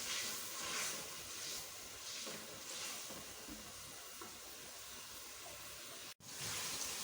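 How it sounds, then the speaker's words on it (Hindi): Frozen onion frying slowly in a pan, a steady, close sizzling hiss that holds even throughout with only a brief dropout near the end. "प्याज जो है हमारा आहिस्ता आहिस्ता से भून रहा है"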